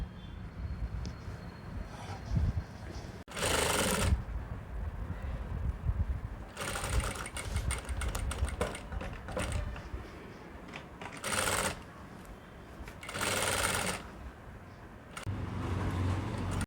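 Sewing machine stitching a churidar neckline, with several bursts of fast rhythmic needle clatter separated by quieter pauses of fabric handling, close and moderately loud.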